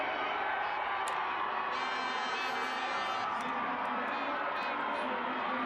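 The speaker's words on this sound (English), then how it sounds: "the crowd raising the volume" A crowd cheers at a canoe sprint Olympic qualifier race in Barnaul, Russia, with a sustained roar and whistles rising beneath an announcer talking throughout.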